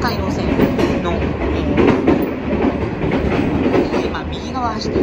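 Shonan Liner passenger train running on the rails, a steady close rumble with rhythmic clickety-clack from the wheels throughout, heard from on board.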